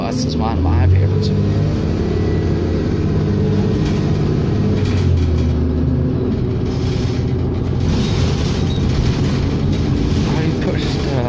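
Onboard a 2007 New Flyer D40LFR city bus of ETS on route 9 Eaux Claires, a loud, steady low engine rumble and road roar fills the cabin and swells slightly as the bus pulls along.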